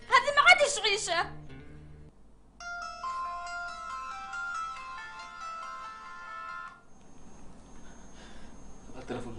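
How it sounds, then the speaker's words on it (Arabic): A telephone ringtone sounds in a Saudi television drama scene: a short burst of sound, then a clear melodic tone pattern that repeats for several seconds before fading into quiet background noise. "التلفون"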